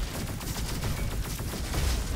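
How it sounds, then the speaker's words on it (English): Scrap explosions mix with rapid Arctic Rifle fire in the shooter game Roboquest, a dense, continuous crackle of shots and bursts at moderate level with no talking. "the scrap explosion"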